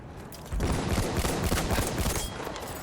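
Dense gunfire in the Battlefield 1 video game, a rolling volley of overlapping shots and booms, loud and sustained for about two seconds before easing off.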